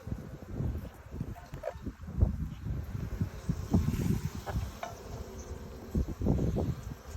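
Honey bees hum and buzz steadily close by in a hive, with intermittent rustling and soft knocks mixed in.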